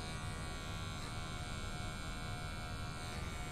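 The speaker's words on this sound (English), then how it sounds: "So I have my clipper open, no guard, and I'm going to make another guideline now." An electric hair clipper with no guard buzzes steadily and close up throughout, a continuous motor hum cutting a high and tight skin fade at a barbershop.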